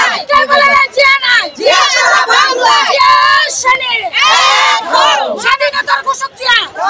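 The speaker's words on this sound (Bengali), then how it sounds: "স্লোগান ধরেন মহিলা দলের পক্ষ থেকে" A large crowd of women chants political slogans at a rally at a Shaheed Minar in Gazipur, loud and close, with many shouting voices rising and falling in repeated call-and-response phrases.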